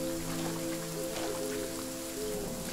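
Steady rain pours in the horror video game Visage, a dense, even hiss of drops that holds throughout, with a low sustained tonal drone humming beneath it.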